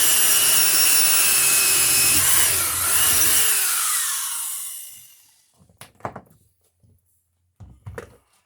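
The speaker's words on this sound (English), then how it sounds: "we'll drill a hole through our stud here" A power drill bores a hole through a wooden wall stud, whining loudly for about five seconds before winding down, followed by a few scattered knocks and handling sounds.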